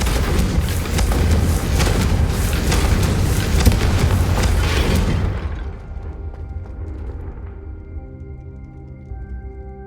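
Booming blasts from the Confringo spell in Hogwarts Legacy, a dense run of loud explosive hits for several seconds that then cut away to a quieter tonal game backdrop.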